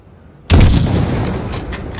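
A sniper rifle shot fired in the Modern Warfare video game during a long-range mission: a single loud, sharp crack opens after a brief quiet moment, then a long booming echo slowly rolls away.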